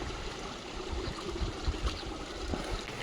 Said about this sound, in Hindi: पानी की जो कलकल आवाज़ जो आपको भी आ रही होगी, वो मुझे भी आ रही है